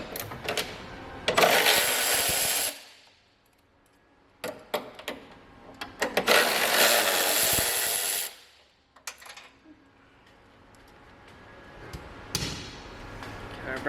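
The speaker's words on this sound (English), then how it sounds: "Start with taking those bolts out." Hand tools loosening and removing bolts from the rear diffuser area of a Corvette C8 Stingray, with bursts of loud ratcheting and whirring separated by quieter stretches of scattered clicks and metallic taps, fairly close.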